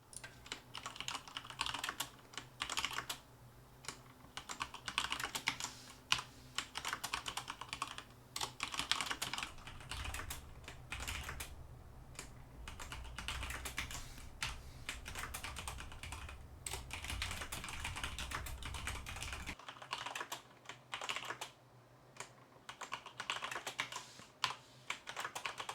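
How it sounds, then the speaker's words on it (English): Keystrokes on a mechanical Corsair computer keyboard, a fast continuous clatter of sharp clicks in uneven bursts, typed nearby and recorded through a microphone with a faint hum underneath, with no talking. "let's listen how these three microphones react to the keystroke sound"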